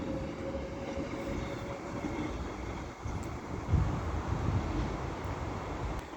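A train pulls out of Stoke-on-Trent station on the West Coast Main Line with a continuous low rumble and some wind noise, swelling slightly near the end, with no voices.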